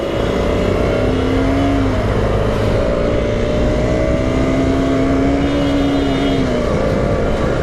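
A loud KTM Duke motorcycle engine, not yet warmed up, revs steadily and close by, its pitch rising and falling through several throttle blips, with no voices.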